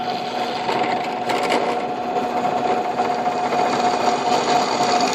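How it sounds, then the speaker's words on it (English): A drill whines steadily as it bores through metal on a Ferguson TO30 tractor, a continuous high mechanical hum with a faint grinding edge, close and sustained. "First thing we're going to do is drill the hole"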